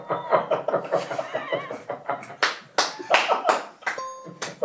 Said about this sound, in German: So ein Applaus.